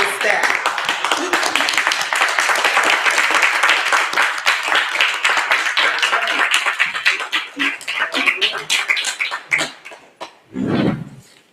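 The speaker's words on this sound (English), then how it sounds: "If you all could please stand and give him a round of applause and all of his staff." A remembrance day audience standing and applauding in a hall: dense, sustained clapping from many people that thins into scattered claps, then a brief voice at the end.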